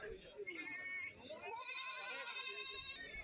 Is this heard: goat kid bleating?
yes